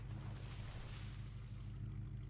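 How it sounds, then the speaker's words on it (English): A boat engine runs in the Scrap Mechanic video game, a steady low rumble with a faint washing, watery noise on top. It holds even throughout with no talk. "Can't you kill the engine or something?"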